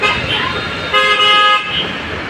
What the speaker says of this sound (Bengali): দেখেন কত স্পিডে গাড়িগুলো চলতেছে